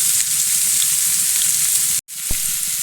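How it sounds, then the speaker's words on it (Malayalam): Chopped onions sauté in coconut oil in a pan, giving a loud, steady sizzle and crackle that cuts out briefly and then resumes, with a single sharp knock near the end. "അതിലേക്ക് ഞാൻ വെളിച്ചെണ്ണ ഒഴിച്ച് നമ്മൾ അരിഞ്ഞ് വെച്ച ഉള്ളിയൊക്കെ ഉണ്ടല്ലോ, അതൊക്കെ വഴറ്റാൻ പോവുകയാണ്"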